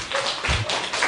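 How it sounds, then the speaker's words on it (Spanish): Applause for Álvaro after his kata demonstration on an educational programme: a short stretch of light, brisk clapping from a small group, fairly close, with no talking over it. "Un aplauso para Álvaro"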